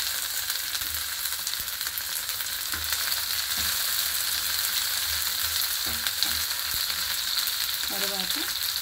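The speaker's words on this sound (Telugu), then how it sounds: "ఇప్పుడు పచ్చిరయలు వేసేస్తున్నాను" Raw prawns frying in a pan for a ridge gourd dish, giving a steady, close sizzle throughout with a few soft clinks of utensils near the end.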